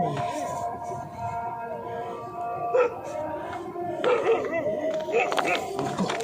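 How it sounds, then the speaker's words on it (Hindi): Dogs bark at night near a pond, several yelps and barks at mid distance that grow busier toward the end, mixed with people talking. "जितना हम पास आते गए उतना तेज ये कुत्ते भौंक रहे हैं।"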